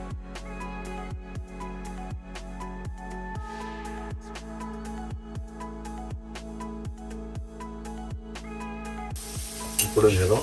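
Onions fry in a pan for spicy tomato rice with a steady, close sizzle, punctuated by rhythmic stirring scrapes and soft background music, ending with a louder burst of hissing.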